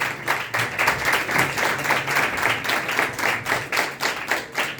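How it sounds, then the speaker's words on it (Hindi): A church congregation claps in a lively, pulsing rhythm, roughly regular beats of many hands together with scattered applause filling the gaps, sustained at a steady level throughout. "जोरदार तालियां खुदा की जलाल के लिए,"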